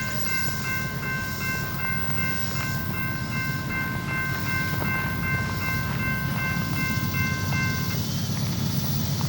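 A Norfolk Southern freight train rolls past at China Grove, North Carolina: a steady, fairly distant rumble of wheels and cars with faint clicks and thin tonal ringing throughout.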